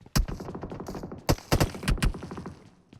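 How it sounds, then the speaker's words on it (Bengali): Gunfire in PUBG Mobile: several loud, sharp shots in quick bursts, a cluster near the start and more spaced cracks later, with a dense rattle of battle noise between them and no talk. "ওই শুয়ে ফায়ার দিছে"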